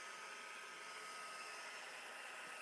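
A hair dryer blows steadily over a mixed media artwork, a continuous even whooshing hum from start to finish at close range, with no pauses or voices.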